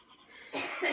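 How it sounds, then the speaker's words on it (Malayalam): Coughing from several people outdoors at sunrise, two close, harsh bursts arriving one after the other in the second half after a quiet stretch of background noise. "ഇവിടെ എല്ലാവർക്കും ചുമയാലോ."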